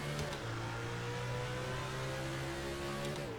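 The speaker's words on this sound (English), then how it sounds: "So you could hear my car rev up and then kind of speed up" Race car engine in NASCAR Racing 2003 at Watkins Glen, revving steadily in the mid range with a rising pitch near the end as the car speeds up, loud and continuous with no talk.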